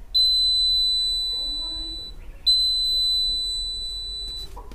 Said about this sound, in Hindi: मैं फट से सामने से गया फिर भी ये थोड़ी देर तक अलार्म